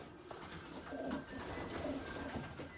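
Racing pigeons coo inside a loft fitted with box perches, giving soft, low, repeated rolling calls from several birds at once against a steady background hum.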